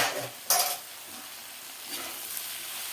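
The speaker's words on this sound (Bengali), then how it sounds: "এখন সয়াবিনটাকে দিয়ে দিচ্ছি, সয়াবিনটাকে দিয়ে কষাবো।" Soybean chunks stir-fried with vegetables in a pan, a sharp clatter of ingredients going in at the start followed by a low steady sizzle and occasional scraping stirs.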